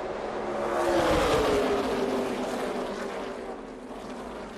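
NASCAR Xfinity Series race cars roar past at Kansas Speedway, a loud engine drone that swells and pitches downward as the pack passes, then fades into a steady rumble.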